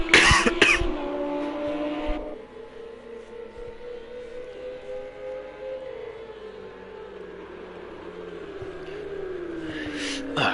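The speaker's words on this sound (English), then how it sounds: "I apologise for the early coughing." A person coughs and clears their throat loudly and close at the start, with more coughs near the end, while racing-car engine drones from a GT3 sim race at Imola carry on underneath.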